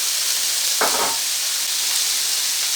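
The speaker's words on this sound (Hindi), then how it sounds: "अब आलू को भूनेंगे प्याज के साथ।" Potatoes and onions fry in a pan with a steady bright sizzle throughout, briefly disturbed by one stir or scrape near the start.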